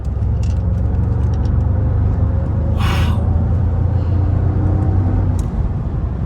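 Loud, steady engine and road roar from a 2003 Mercedes E55 AMG sedan travelling at speed, a continuous low drone filling the whole stretch, with brief wind rush midway and a short exclamation from a person inside.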